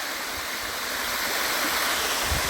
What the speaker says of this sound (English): It's quite an active creek, this one.